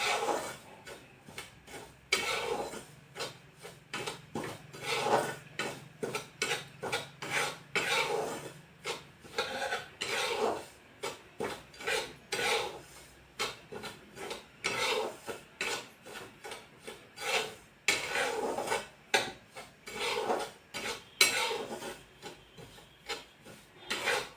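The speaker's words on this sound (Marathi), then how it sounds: "रवा आपला भाजत आलेला आहे" Semolina (rava) roasted and stirred in a pan, a long run of close scraping and rasping strokes from a spoon against the pan, repeating in an uneven rhythm with no talk.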